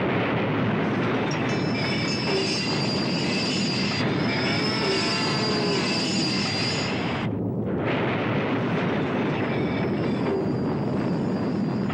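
A train travels a narrow, dangerous mountain pass, rumbling loudly and steadily with wheel squeal and rail clatter, briefly dipping partway through before the roar resumes.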